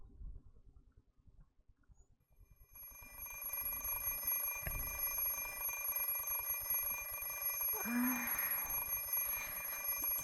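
An alarm clock rings in the visual novel Fate/stay night remaster, beginning after a few soft taps and then buzzing continuously and steadily, fairly faint and unbroken until the end.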